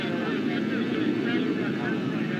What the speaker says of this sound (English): The aircraft is now setting up to perform victory rolls overhead